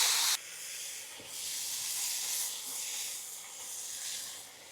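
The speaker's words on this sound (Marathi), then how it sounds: "त्याच्यामध्ये आपण चांगल्या प्रकारे तिला फ्राय करून घेणार आहे।" Chopped fenugreek leaves fry with browned garlic in a pan, a sharp hiss at first settling into a steady, close sizzle that gently swells and fades.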